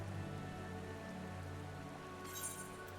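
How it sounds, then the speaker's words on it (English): Steady rain falling in the Final Fantasy XIV game world, a constant soft hiss of drops on surfaces heard from shelter under a gazebo, with a slightly brighter patter near the end. "I like how it's raining, but we're actually protected from the rain under this gazebo"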